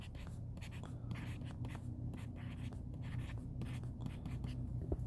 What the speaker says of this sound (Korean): 천천히 써볼게요.